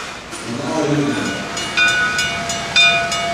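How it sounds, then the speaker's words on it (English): Shay steam locomotive number 9 pulls a train out of a station at an Old Threshers reunion in Mount Pleasant, Iowa, a loud close rumble of rolling stock with metallic squeal tones and rhythmic chuffs. "we see Shay number 9 pulling the first train of the day out of the South Station"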